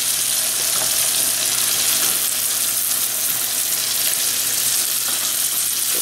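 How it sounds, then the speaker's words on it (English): Chicken livers cook in butter with a loud, constant close-up sizzle, an even bubbling hiss that never lets up, alone without voices. "You're just gonna cook them in that butter."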